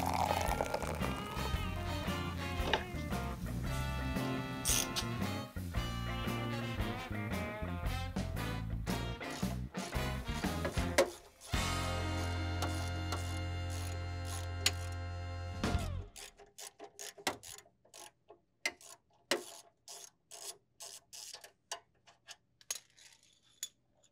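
Metal clanks, clicks and scattered knocks from pulling the compressor out of a vintage Vendorlator VMC 56 Pepsi machine come in after a long stretch of music, each hit sharp and separate in an otherwise quiet space.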